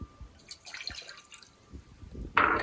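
Tap water running into a vessel for making tea, a short gush at the end after quieter dripping and handling sounds, fairly close.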